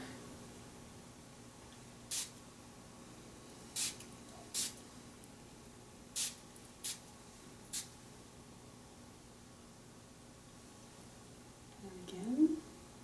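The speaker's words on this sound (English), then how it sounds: "Spray toward the neck." Six short, sharp bursts from a spray bottle, spaced a second or so apart, in a quiet room, followed by a brief low rustle at the end.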